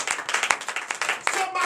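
Hands clap in a quick, uneven burst of individual claps during a morning prayer service, close and sharp, with a voice faintly present underneath.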